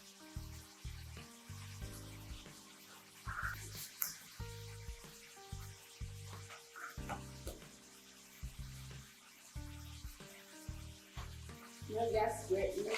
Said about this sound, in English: as we are frying the bacon